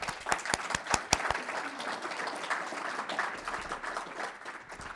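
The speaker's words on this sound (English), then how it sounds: "Give a round of applause again for our 4 winners" Audience applause for four award winners at a public health event, a steady room-filling wash of clapping with a few sharp, close hand claps standing out at the start, continuing evenly to the end.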